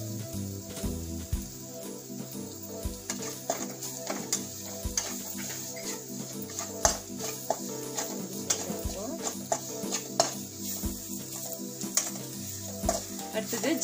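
Spices sizzle in hot oil in a pan for paneer butter masala, a continuous close frying hiss with stirring scrapes and soft taps, while a voice talks over it.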